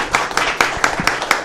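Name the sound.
round of applause at a meeting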